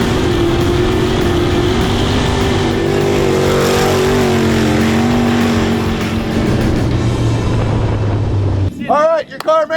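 A race car engine roars steadily with a droning, slightly shifting pitch as it laps a track, then cuts off near the end as a few brief voice sounds come through.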